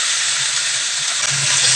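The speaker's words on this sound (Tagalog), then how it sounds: "ginigisa ko na ang bawang, sibuyas, at isusunod ko na rin itong manok." Garlic, onion and chicken sizzle in a hot pan, a loud, steady hiss that stays close and constant, with faint low clinks underneath.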